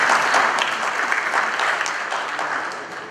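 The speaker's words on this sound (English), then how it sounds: "His Excellency Wamkele Mene is yours for your applause" Audience applauding at a three-day mining summit in Africa, a dense, steady burst of clapping from a large crowd that holds strong and tapers slightly at the end.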